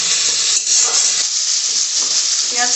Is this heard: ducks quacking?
no